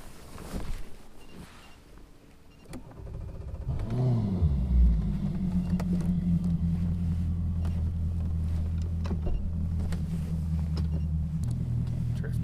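A boat's outboard motor starts up on the St. Lawrence River and settles into a steady, loud, low rumble that runs without pause to the end, with faint wind noise on the microphone.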